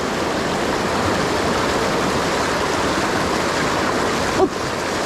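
A waterfall in a prehistoric gorge roars as a steady, loud, broadband wash of falling water, unbroken for the whole stretch apart from one brief knock near the end.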